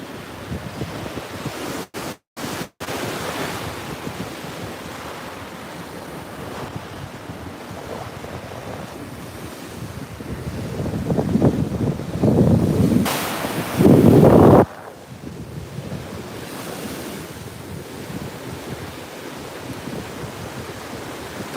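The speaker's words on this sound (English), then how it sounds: "would appreciate a little time at the beach, staring at the surf" Ocean surf rolling onto a beach, a steady broad wash with heavy wind buffeting the microphone and a louder gust-like surge near the end, no voices.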